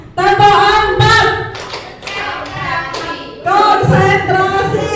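People in a teachers' group session play a counting clap game, bursts of loud unison hand claps alternating with spoken calls and responses.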